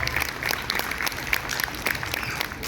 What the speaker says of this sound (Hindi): तालियों से स्वागत करें सब